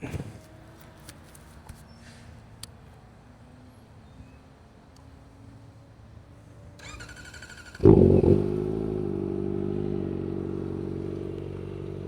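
Quiet shuffling and clatter give way to a Kawasaki Ninja ZX-4RR motorcycle firing up, followed by a loud, steady idle close by in the last few seconds.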